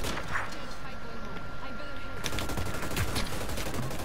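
Shotgun blasts ring out in the shooter game Hyper Scape: a quick run of sharp, loud reports in the latter half over constant game noise, with voices talking alongside.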